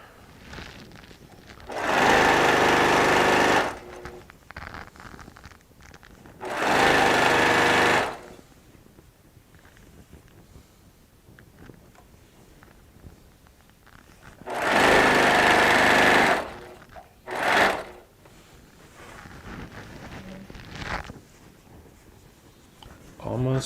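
A domestic sewing machine stitches a quilt seam in short bursts, two runs of a few seconds each, a pause, then another long run and a brief final spurt, with quiet room sound between.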